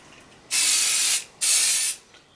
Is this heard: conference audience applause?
no